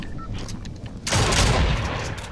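Shotgun fire in Fortnite: a single loud, broad blast with a long rough tail cutting in partway through, over a noisy game background.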